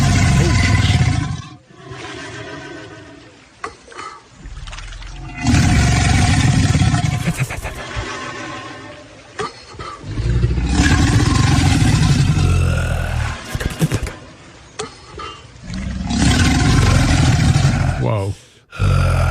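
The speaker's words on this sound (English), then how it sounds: "Some brave soul got super close to a huge alligator and recorded its rumbling roar" A huge alligator roars up close in Florida: three long, loud, rumbling bellows with deep low-end growl, separated by brief pauses, with no talking.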